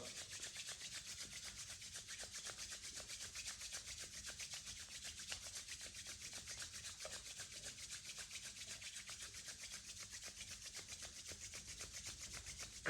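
Hands rubbed briskly together during a yoga session, a steady, soft, continuous rasping friction that holds evenly for several seconds with no talking over it.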